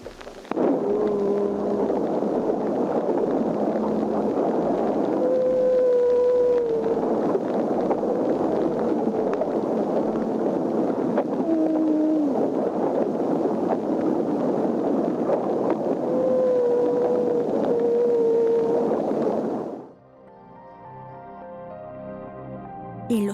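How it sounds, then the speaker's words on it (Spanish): The oldest known humpback whale song recording, made in 1949, carries a steady roar of noisy ocean hiss with faint drawn-out tonal moans and rising wails rising through it, cutting off abruptly near the end into quieter music-like tones. "como el registro más antiguo conocido del canto de una ballena jorobada"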